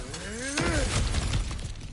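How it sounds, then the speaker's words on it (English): Objects smashing and breaking in God of War Ragnarok, a crunchy shattering crash with rattling debris over a game music tone, loud and close, lasting about a second and a half. "back to smashing through things for fun and profit"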